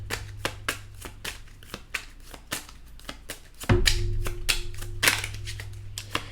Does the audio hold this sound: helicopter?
no